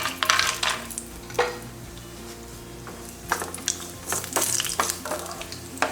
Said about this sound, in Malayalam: ഞാൻ ആദ്യം ഒരു 25ഓളം കാഷ്നട്ട് വറുത്തെടുക്കണം